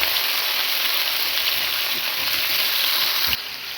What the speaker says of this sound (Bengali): তেলের সাথে আলুটা ভালো করে আমরা ভেজে নেব।